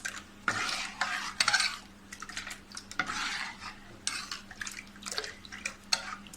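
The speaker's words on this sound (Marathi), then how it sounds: "छान असं व्यवस्थित ढवळून घ्यायचं आहे" Soaked rice flour batter for Malvani ghavne is stirred with water in a metal pot, giving repeated scraping and sloshing strokes in irregular bursts, close and fairly quiet with no voices.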